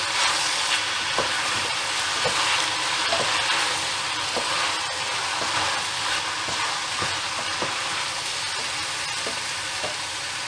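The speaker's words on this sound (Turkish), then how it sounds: "Ekliyorum. Ve güzelce karıştıracağım." Peeled tomatoes are being stirred into a vegetable dish of black courgette and purslane in a pan, giving a loud, continuous sizzle with regular spoon scrapes and clicks every second or so.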